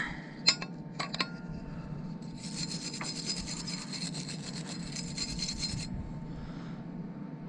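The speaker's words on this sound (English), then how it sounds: "let me get my wire brush. Let's clean that outside weld up a little bit." A wire brush scrubbing a steel weld on a Westendorf loader makes a harsh, close scratching rasp that lasts a few seconds, after a couple of sharp metallic clinks at the start.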